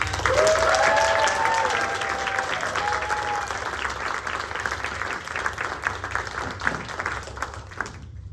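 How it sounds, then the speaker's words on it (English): Enthusiastic audience applause for a theater director after a show, loud and dense at first with a few whoops, then tapering into scattered claps before stopping abruptly. "let's give another round of applause for our amazing director, Savannah"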